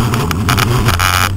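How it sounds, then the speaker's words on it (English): A Crystalyte 5303 36-volt e-bike kit on a 26-inch bike spins its tire out on gravel, giving a loud, close gritty scrabble with bursts of spray over a low hum. "Gravel peel out there."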